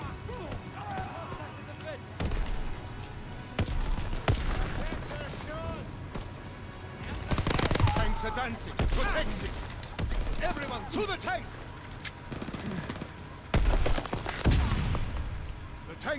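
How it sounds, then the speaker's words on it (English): Gunfire in the Call of Duty WWII game during Operation Griffin. Scattered shots and short bursts crack at irregular intervals among battle noise and shouted voices, with a few louder volleys standing out. "They're shooting everyone."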